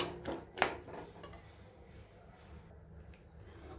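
Red chickpeas are tipped into a pan of masala cooked until the oil separates, giving a couple of brief, quiet metallic clinks up front before a low, steady background.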